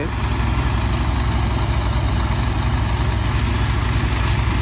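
A tractor engine idles loudly and steadily, a deep low rumble with a constant chugging throb and no talking.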